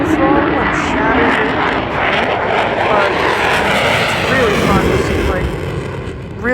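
A jet airplane roars at full throttle during the Oshkosh AirVenture airshow, a loud, sustained engine blast with swirling whines overhead, filling the whole stretch.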